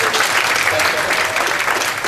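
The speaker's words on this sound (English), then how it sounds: "give a huge round of fake but joyous applause" Conference attendees give a loud, dense round of applause at the opening of a workshop, continuous and close throughout.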